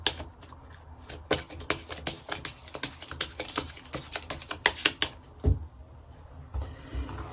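Tarot cards shuffled and drawn by hand during a Korean reading, giving a steady run of quick papery riffles and flicks, close and fairly soft, with a few sharper slaps as cards land. No one speaks.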